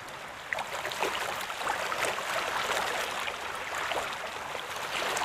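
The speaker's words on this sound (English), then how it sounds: "if you have really calm water, you can use this sound. It's much calmer." Calm, soft sea ambience from an Unreal Engine 5 3D sea sound system, a steady gentle wash of water with faint ripples and no distinct waves, even and continuous throughout with no voices.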